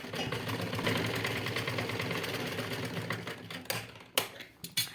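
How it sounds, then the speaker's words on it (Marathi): A sewing machine stitches blouse fabric with a close, steady mechanical whirr for about four seconds. It ends with a few sharp clicks and handling knocks as it stops. "आता याला अशी शिलाई मारून घेते."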